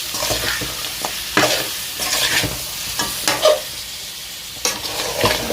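Meat fries with red chilli and garam masala for Lucknow-style biryani, a loud sizzle broken by repeated stirring and scraping strokes in the pot.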